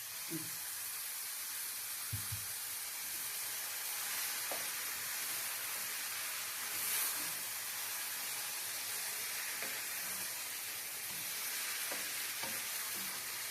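Chicken for a chicken mushroom pie filling fries in a pan, giving a long, even hiss of sizzling with occasional soft stirring clicks and scrapes throughout.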